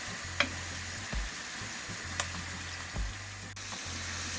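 Chopped tomato and sweet pepper softening in a pan for a Jamaican cabbage and saltfish breakfast, giving a soft steady sizzle with faint ticks and light stirring taps, fairly quiet and without speech.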